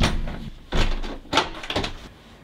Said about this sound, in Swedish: Dörren går lätt i baklås.